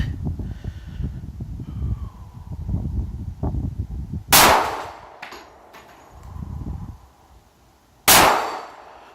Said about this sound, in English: I'm gonna travel down here, and I'm gonna shoot the steel plate.